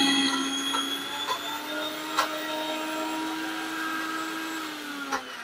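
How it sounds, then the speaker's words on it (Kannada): A mixer grinder whirs steadily while grinding soaked lentils with salt and water into vada batter, a continuous motor drone with faint periodic clicks, nearby and alone. "ಸೊ ಇಷ್ಟನ್ನು ಇವಾಗ ರುಬ್ಕೊಳ್ಳೋಣ"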